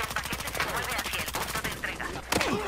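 Automatic gunfire in the video game Battlefield Hardline, rapid bursts of shots rattling continuously with a sharper louder burst near the end, fairly close and dense.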